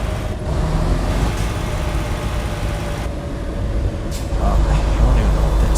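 Steady low rumble of a big rig's engine and engine brake in a trucking video game, a continuous droning roar with a slight swell toward the end and faint talk over it.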